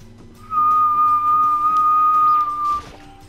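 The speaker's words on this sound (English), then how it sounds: "I should probably not whistle because the range of my mic is high and I'm close to it." Someone whistles a single long, steady high note very close to the microphone, loud and clear for about two seconds before cutting off, with faint game sounds beneath.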